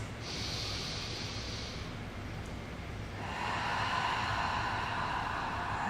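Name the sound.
big breaths during yoga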